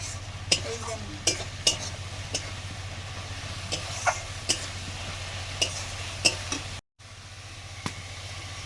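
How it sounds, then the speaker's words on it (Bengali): Boiled potatoes for aloo dum frying in a pan with a steady sizzle, scraped by a stirring spoon in sharp, irregular strokes over a constant low hum. "সেদ্ধ করা আলুগুলো দিয়ে দিলাম"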